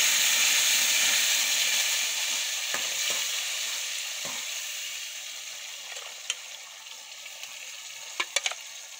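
Bottle gourd sizzling in a hot pan, a steady frying hiss that fades slowly, with a few faint clicks and taps near the end.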